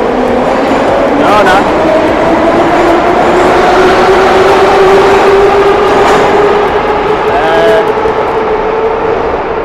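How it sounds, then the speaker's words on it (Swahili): A modern metro train pulls into a station platform with a loud, steady rumble and rising whine of wheels and motors, while someone talks over it. "Hii hapa bwana, hii ni treni ya kisasa."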